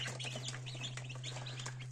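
Newly hatched incubator chicks of mixed colours chirp in a dense, continuous chorus of high peeps, close and lively, over a steady low electrical hum.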